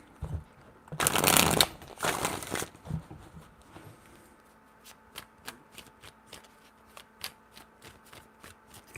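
Tarot cards being shuffled by hand: a loud riffling burst early on, a few softer shuffles, then a run of light, evenly spaced taps and flicks, close and quiet with no voices.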